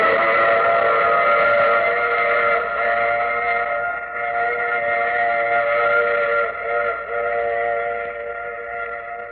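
A train's whistle sounds steadily for about nine seconds as a radio-drama sound effect, a sustained multi-tone blast over a low rolling rumble of the train, loud and continuous with slight swells.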